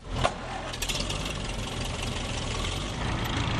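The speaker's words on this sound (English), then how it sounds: "Yes, this is my tractor. It's a 1954 TE20 Ferguson." A 1954 Ferguson TE20 tractor engine starts with a brief knock, then settles into a steady, fairly close, rumbling idle at a beach start line.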